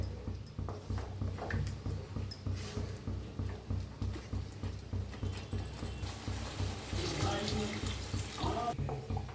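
A little water is poured into a mixer jar, a wet splashing trickle set against a steady rhythmic knocking that repeats throughout, swelling louder near the end.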